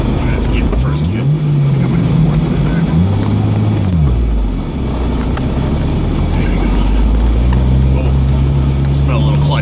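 A car grinds through deep snow during a blizzard in first gear, its engine droning and rising and falling in pitch as it pushes on, loud and steady with snow hiss throughout; a person talks over it.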